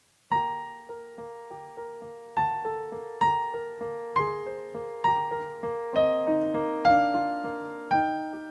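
Solo piano plays a slow, lyrical melody over flowing accompaniment. Each note rings out and decays, with steady phrasing and a soft, intimate tone.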